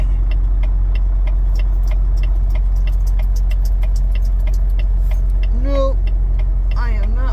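Steady low engine hum from inside a moving truck cab on a Michigan delivery route, with a regular ticking like a turn signal and a brief voice near the end.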